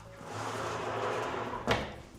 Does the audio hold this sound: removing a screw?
no